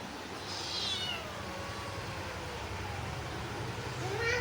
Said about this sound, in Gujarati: મસ્ત મજાનું કેટ છે ભાઈ